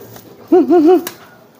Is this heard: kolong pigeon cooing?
yes